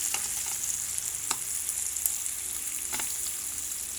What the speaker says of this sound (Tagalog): Pork ito ang ating niluluto.